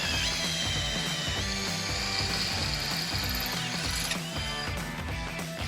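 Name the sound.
power drill drilling through steel with a sharpened bit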